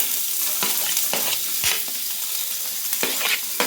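Chopped onion fries in hot oil in a pan, a steady close sizzle broken by repeated scraping stirs of a spatula, loud and continuous without any talking.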